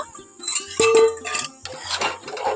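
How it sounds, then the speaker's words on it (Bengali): A cooking-pot lid over okra and potatoes comes off with a few sharp metallic clinks and light scrapes, close by and quiet, in short bursts. "এখন আমি ঢ্যাঁড়সের ঢাকনাটা খুলে নেব"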